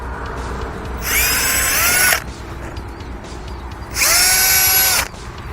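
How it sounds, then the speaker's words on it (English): Power drill with a 1/4 inch bit boring through a Rapid Wall panel, two separate loud whining bursts of about a second each, separated by a quiet pause. "I'm going to take a 1/4 inch drill bit"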